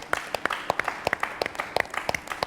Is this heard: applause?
yes